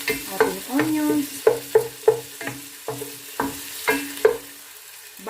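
Onions fry in a pan for goto, rice porridge, with a soft continuous sizzle under repeated sharp scrapes and clicks of a utensil stirring against the pan, close and fairly loud.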